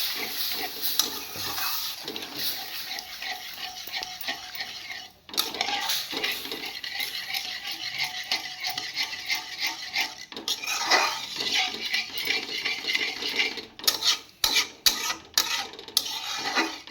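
A spoon scraping and clinking against a metal pan while sooji halwa with milk is stirred, irregular repeated scrapes and taps close up, with a few sharper knocks toward the end.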